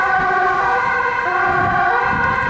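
An ambulance siren wails loudly and steadily up close, with traffic noise underneath and no voices.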